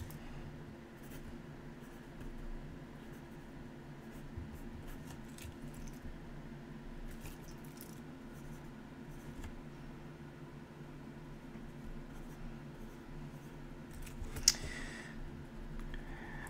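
A pencil scratches and scribbles across paper in a series of short strokes, faint and close over a low steady hum, with a sharper tap near the end.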